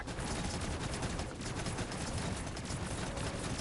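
Rapid, continuous shooting of the Satellite ability in Final Fantasy XVI, a dense unbroken stream of crackling shots layered over loud battle noise for the whole stretch.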